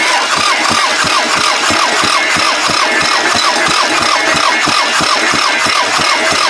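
A Camry wagon engine cranks steadily on the starter during a cylinder compression test, a fast, even rhythm of loud repeated pulses held throughout with no catch.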